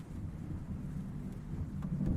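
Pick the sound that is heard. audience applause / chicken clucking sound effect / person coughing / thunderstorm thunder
thunderstorm thunder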